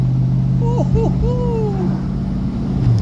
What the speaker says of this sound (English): That is smooth. Listen to that motor.